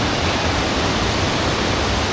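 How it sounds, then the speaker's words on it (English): Hindhope Linn, a waterfall in Northumberland, pours heavily with misty spray, giving a steady, dense, loud rushing roar with no pauses. "this waterfall is absolutely stunning"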